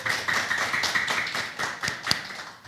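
Applause at a residents' general meeting in a community hall, a steady round of many hands clapping in a room, fairly loud and continuous with some sharper individual claps.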